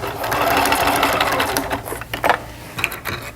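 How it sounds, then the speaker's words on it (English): A sewing machine runs steadily, stitching around a belt, with a close, continuous mechanical whir that slows and stutters slightly near the end. "So let's stitch that around."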